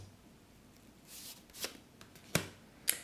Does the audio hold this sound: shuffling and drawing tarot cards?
yes